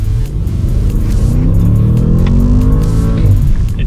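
Audi S8 luxury sedan with a V8 engine accelerating hard, a loud, close, continuous rumbling roar that climbs steadily in pitch across the whole stretch, with no talk over it.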